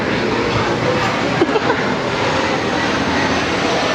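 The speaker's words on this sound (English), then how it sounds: "And the plane, oh my gosh." A steady broadband airplane roar passes overhead, loud and continuous for the whole stretch, with faint brief sounds flickering near the middle.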